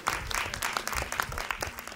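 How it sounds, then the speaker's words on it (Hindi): Brief, moderately loud applause from an audience at a healing and energy sciences masterclass, with individual claps distinct in a quick, uneven patter. "बहुत ज़ोरदार तालियां एक बार मैम के लिए और संजीवनी के लिए"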